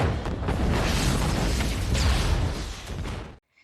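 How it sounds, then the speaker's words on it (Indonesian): A charge stuck to a vehicle detonates in a broad, loud blast that rumbles continuously for over three seconds before cutting off abruptly. "X mengaktifkan peledak yang ditempel di kendaraan dan membuat ledakan."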